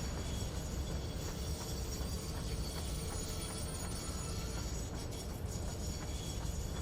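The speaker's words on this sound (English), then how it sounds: "The sounds that the trains are making are so amazing." Trains roll along rails in the factory-building game Satisfactory, a steady rumbling rail clatter with faint metallic friction that holds at an even level throughout, with no voices.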